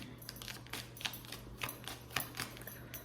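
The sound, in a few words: shuffling tarot cards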